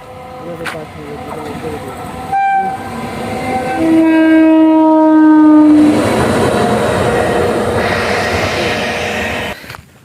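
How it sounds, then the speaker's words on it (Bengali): A train engine passing near a railway line, its horn blaring in a long sustained blast, then a loud rumbling wash of rolling wheels and carriages that fades toward the end, with a voice heard talking over it. "আরেকটা ট্রেন আসছে ট্রেন বলছি ইঞ্জিন আসছে দেখো"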